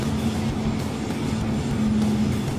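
A turbocharged Suzuki Alto HA36S fitted with a BLITZ bolt-on turbo accelerates under throttle, its engine droning steadily with a held tonal whine and a slight rise in loudness near the end, heard without speech.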